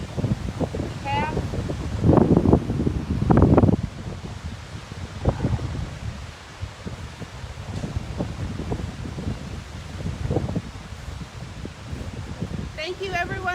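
Gusty outdoor wind buffets the microphone in broad, rumbling surges, louder at times, with a voice speaking intermittently over it.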